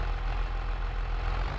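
A tractor engine in Farming Simulator 22 gives a steady, low diesel rumble at moderate level, running with no voices over it.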